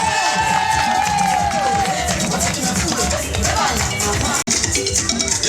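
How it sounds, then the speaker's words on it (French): Audience at a mourning-retreat ceremony in a crowded hall cheers and applauds for children, a loud, continuous crowd roar with shouts and voices over it, briefly cutting out near the end. "Applaudissez pour les enfants s'il vous plaît."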